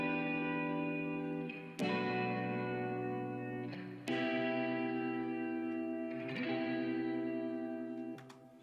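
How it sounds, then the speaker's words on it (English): A sustained electric guitar loop with vibrato effects, layered chords ringing with reverb and echo, played alone at a steady moderate level, each new chord struck sharply every couple of seconds before fading. "just get the schematic vibration guitar loop."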